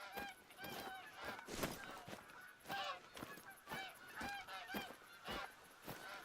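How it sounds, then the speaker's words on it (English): Canada geese honk repeatedly near a cornfield in the hunting video game theHunter: Call of the Wild, a series of nasal calls from several birds, quiet and somewhat distant, with no talk over them. "it's Canadian geese."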